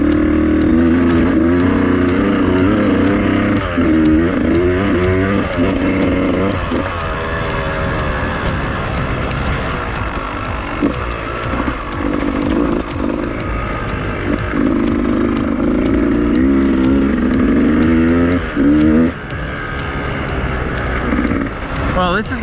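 A new Beta motorcycle's engine revs continuously while riding, its pitch rising and falling with the throttle in repeated surges, loud and close throughout with some rushing wind noise.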